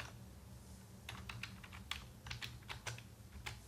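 Keys being typed on a computer keyboard while entering CSS code, a run of light quick clicks from about one second on, close and fairly soft over a low steady hum.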